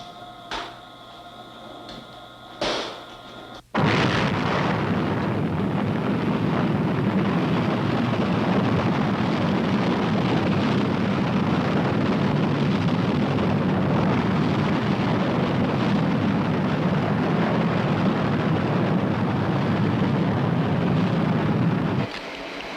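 A Strategic Air Command missile launch at Vandenberg rises from a sudden onset into a sustained, loud broadband roar that holds steady for nearly twenty seconds before easing off.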